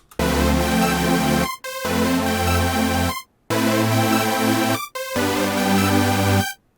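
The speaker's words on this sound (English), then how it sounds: "And below I have some supersaws that I'm using as a modulator in vocoder." Supersaw synth chords, bright and thick with detuned harmonics, play four sustained stabs of about a second and a half each, separated by brief silences, loud and unaccompanied.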